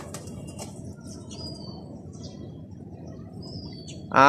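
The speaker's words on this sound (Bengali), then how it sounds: "আমার এখানে মিক্স করা কবুতর বেশি" Mixed-breed pigeons on a rooftop loft give soft low cooing over a steady murmur, with a few faint chirps and a sudden burst of flapping wings at the end.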